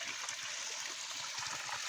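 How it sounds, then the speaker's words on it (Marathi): Dirty water drains out of a crab farm pond in Konkan, a steady broadband rush and trickle of flowing water, continuous and moderately close with no voices. "सगळं खराब पाणी आता बाहेर चाललंय"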